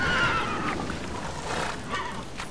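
Video-game horse in The Witcher 3 gives a whinny near the start, followed by scattered hoof and movement noises at moderate level, with no voices.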